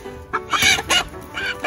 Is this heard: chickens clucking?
yes